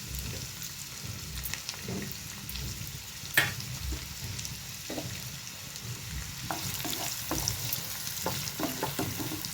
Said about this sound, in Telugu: ఇవి బ్రౌన్ కలర్ వచ్చే వరకు మనము వేయించుకోవాలి.